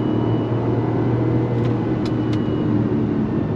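Interior drone of a 2024 Mazda CX-90 midsize SUV driving along, a steady low engine and road hum with a couple of faint short clicks, no talking.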